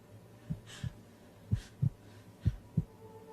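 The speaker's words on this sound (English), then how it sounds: "It's almost like a heartbeat." A slow, steady heartbeat thuds in paired lub-dub beats, three pairs across a few seconds, low and soft, with a faint hum beneath and no talking.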